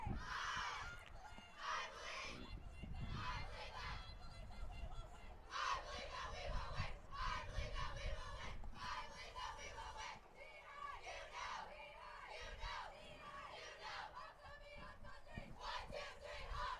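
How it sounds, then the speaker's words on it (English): Varsity girls' lacrosse team, the Hawks, shouting a team cheer in repeated rhythmic bursts of loud group yelling, heard from a distance and fairly faint. "The Hawks starting off with a great cheer, welcoming their university opponents in from San Francisco"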